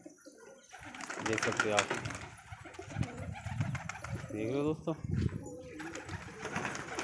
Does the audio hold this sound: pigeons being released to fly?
yes